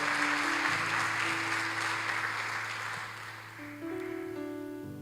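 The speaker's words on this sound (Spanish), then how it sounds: "Entonces, dé un aplauso al Señor." A church congregation claps during an apostle's sermon, giving a sustained wash of applause at fairly loud level while organ or keyboard tones hold underneath, thinning slightly near the end before swelling again.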